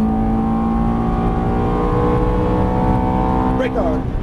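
A Ferrari F430 engine pulling hard at full throttle on a track, a loud sustained tonal roar with rising harmonics dominating throughout, with a voice briefly heard near the end.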